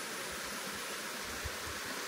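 Waterfall at the head of a stream on Koh Chang, a steady broadband rush of falling water, faint and continuous with no voices.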